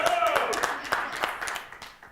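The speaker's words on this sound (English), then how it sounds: "I wasn't even going for applause there, but that was very appropriate." A studio game-show audience claps briefly, distinct hand claps thinning out over a couple of seconds, with a voice heard faintly at the start.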